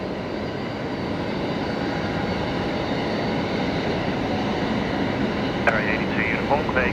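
An Airbus A380 rolls along the runway at Brisbane Airport after landing, its spoilers up and flaps fully down. It makes a continuous mid-level jet rumble that stays even throughout, with brief faint radio chatter near the end.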